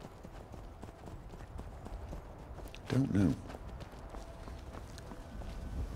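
Horse hooves clip-clop in the video game Skyrim, a soft ongoing rhythm under game ambience, with a brief louder thud midway and someone talking over it.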